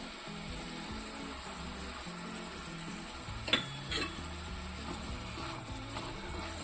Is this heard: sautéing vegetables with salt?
yes